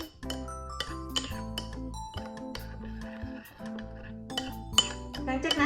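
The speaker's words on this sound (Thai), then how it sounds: "แล้วก็คนนะคะส่วนผสม เข้ากันเนาะ" A utensil stirs salmon tom yum soup in a pot, giving a steady series of close metallic clinks and scrapes against the pot, with some louder knocks.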